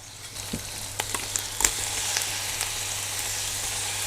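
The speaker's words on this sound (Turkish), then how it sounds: "Karıştırıyorum." Meat frying in tail fat and being stirred, a steady close sizzle with scattered crackles and spoon scrapes near the start.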